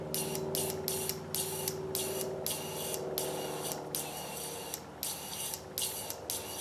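A fuel injector, triggered by tapping its solenoid lead on a battery's positive terminal, fires cleaner in a rapid series of short sharp hissing sprays, roughly a dozen bursts with brief gaps between, over a faint mechanical hum.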